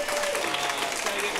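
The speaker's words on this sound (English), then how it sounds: "Give a round of applause for that." Audience at an improv comedy shootout show applauding steadily in a dense round of clapping that fills the whole short stretch, with a few faint voices mixed in.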